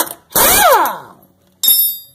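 A power tool whirs up and winds down in a single loud burst while removing a part from a 2003-2007 Chevy Silverado during a lift kit install, followed by another short loud start.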